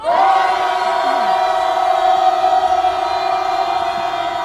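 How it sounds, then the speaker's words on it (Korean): A sustained, loud roar of many voices with a steady held tone, a protest crowd shouting together outside the Seoul Western District Court, continuing unbroken for several seconds. "네, 함성을 쳐보겠습니다. 함성 시작."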